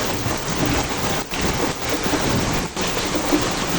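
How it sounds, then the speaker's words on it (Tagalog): Heavy rain pours down in Clark, Pampanga, a dense, loud, steady roar of water hitting surfaces with brief dips, continuous and with no voices. "Grabe, lakas ng ulan."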